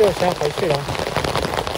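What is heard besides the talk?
heavy rain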